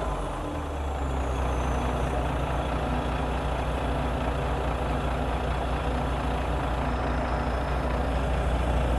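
A road roller being loaded onto a trailer truck, with a loud, steady heavy diesel rumble droning throughout and a faint high whine near the start.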